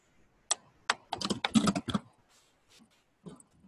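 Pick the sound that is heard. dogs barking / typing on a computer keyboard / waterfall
typing on a computer keyboard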